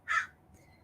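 A crow gives a single short, loud caw, followed by a fainter, more distant call against a quiet outdoor background.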